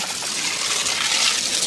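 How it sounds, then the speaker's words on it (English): Gravel pours from a bag into a trench around a foundation footer in clay soil, a continuous dense rushing hiss, close and steady, with no talking. "We're just pouring a little base of gravel so that pipe's not down in the dirt itself."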